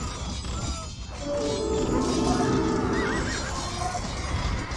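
Cavalry horses neigh and whinny amid the clatter of a battle in Age of Empires 2, with hooves and crashing impacts under a dense, loud game soundscape and no talking.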